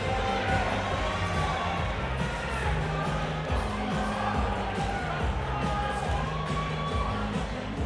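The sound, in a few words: crowd cheering at a cage fighting event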